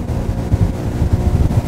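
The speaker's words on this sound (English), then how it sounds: "You're probably hearing more wind noise than you are the engine. It's just the wind blowing here." Wind buffets the microphone while riding a 230hp Sea-Doo Switch Sport pontoon boat on a lake, producing a steady low rumbling roar that largely masks the engine.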